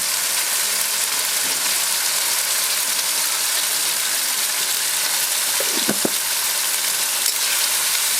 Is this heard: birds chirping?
no